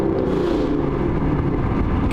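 A car engine idles low and steady at about 650 RPM, a continuous deep rumble with no revving, close and alone without talk.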